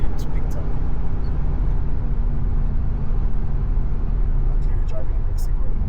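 A Mercedes C63 AMG 507 pulls hard from inside the cabin, its engine and road noise a steady, loud, unbroken roar that holds for several seconds.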